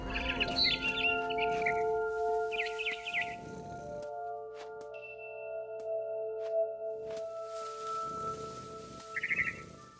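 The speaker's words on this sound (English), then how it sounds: "Then I heard chirping outside my window. It was a barn swallow going back to her nest." A barn swallow chirping outside a window in the video game What Remains of Edith Finch: a few short, bright bursts of twittering near the start and again near the end, over sustained soft musical tones.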